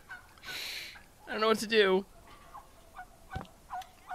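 Wild turkeys gobble at dusk with a rapid rattling burst that is moderately loud though somewhat distant, heard alongside a softer earlier call and a few faint clicks, while a person speaks quietly.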